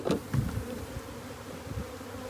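Honeybees buzz steadily around an open beehive, a close, continuous droning hum with a few louder passes near the start.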